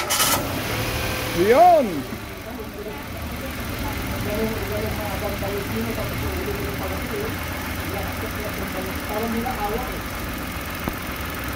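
A Mitsubishi 3A92 car engine, just fitted with a replacement cylinder head and topped up with coolant, cranks and fires with a brief rising surge, then settles into a steady, slightly uneven idle; a man calls out briefly.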